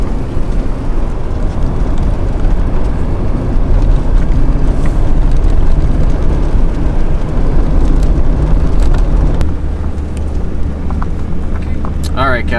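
A vehicle drives a snowy road along the Maine–Canada border at the state's northern point, giving a steady, loud low rumble with wind buffeting throughout and a few brief knocks near the end.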